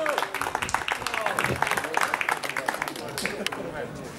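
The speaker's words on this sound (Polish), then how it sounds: "A teraz gromkie oklaski dla naszych flisaków." Applause breaks out for the raftsmen at an outdoor memorial event: a crowd claps in quick, dense bursts while a voice speaks over it.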